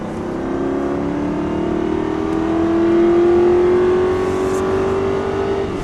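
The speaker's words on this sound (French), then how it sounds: "Vas-y, écrase l'accélérateur." A car engine revs up hard, its pitch climbing steadily as it accelerates, loud and close with no one speaking.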